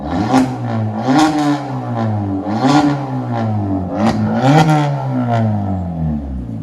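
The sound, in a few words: 2013 Kia Forte revving with straight pipe exhaust, 5-inch tip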